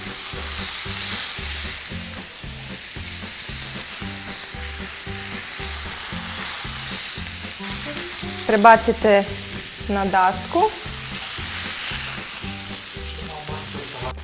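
A beef burger patty topped with cheese sizzles in a frying pan, a steady close frying crackle with a rhythmic low pulsing beneath, briefly interrupted midway by a short spoken phrase.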